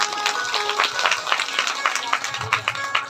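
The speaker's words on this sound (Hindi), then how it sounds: "ताली बजाओ अपने लिए" A crowd of devotees at a Shiv Mahapuran religious discourse claps together, with dense, continuous applause carrying through the whole stretch at a steady, moderately loud level.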